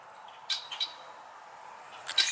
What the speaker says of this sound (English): there is a lot of birds out here right now.